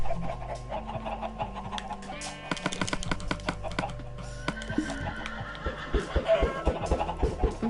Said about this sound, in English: I'm sorry, chickens, I'm just trying to get more eggs.